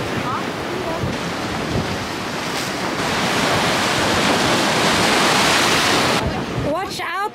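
Waves wash onto a beach near a waterfall on Madeira, a loud, broad rushing surge mixed with wind buffeting the microphone, swelling over several seconds before cutting off, with a brief voice at the end.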